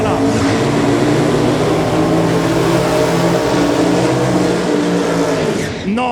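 Drag racing cars at a no-prep cash days shootout launch hard from the start line, engines roaring loud and continuous with rising revs and a brief tire skid near the end, while an announcer talks over the noise.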